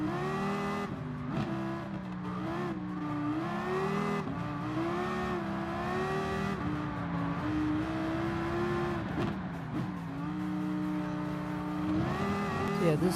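Dodge SRT Tomahawk VGT race car in Gran Turismo Sport flooring it, engine note climbing through repeated upshifts with brief dips between gears, loud, close and continuous with no talk.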